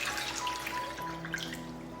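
Pickled mustard greens rinsed in water, with light splashing and dripping sounds close by, fairly quiet and continuous.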